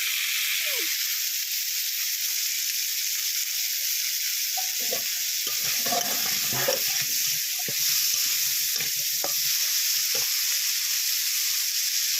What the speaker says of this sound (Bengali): এবার এই মাছ ভাজা তেলের মধ্যে দিয়ে দিচ্ছি কালো জিরে ফোড়ন।